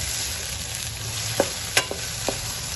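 Mixed vegetables and peas being stir-fried for rice, a steady frying hiss broken by a few sharp spoon scrapes and knocks against the pan, close and fairly quiet.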